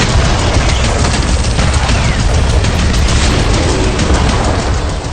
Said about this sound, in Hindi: यूक्रेन की ड्रोन ब्रिगेड ने कुछ ही देर में करीब 100 ड्रोन दाग दिए